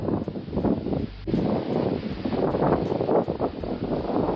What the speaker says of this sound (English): you can hear the trees just blowing and blowing